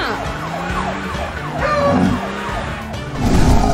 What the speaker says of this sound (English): Your siren and engine are scaring them off.